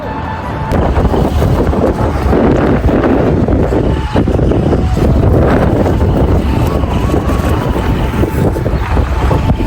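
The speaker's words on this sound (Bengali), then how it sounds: "এই বাতাসের শব্দ শোনা যায়, গাড়ির আওয়াজ শোনা যায়।" Strong outdoor wind roars continuously across the microphone, loud and buffeting throughout, with a faint low rumble that may be passing traffic, no clear speech.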